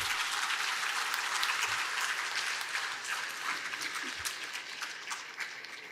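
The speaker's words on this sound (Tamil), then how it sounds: "மிகுந்த கரகோஷத்துகள்" At a farmers' producer organisation conclave in Madurai, an audience applauds an honoured guest as he comes to the stage. Many hands clap in a dense, fairly quiet patter that fades slightly over six seconds.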